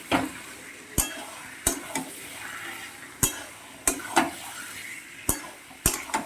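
Chicken and potatoes are fried and stirred in a pan, with a soft sizzle under repeated sharp knocks and scrapes of a spatula against the metal, coming in an irregular, close rhythm.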